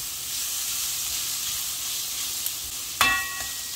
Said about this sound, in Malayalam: ആടിൻ്റെ ബ്രെയിൻ ഫ്രൈ.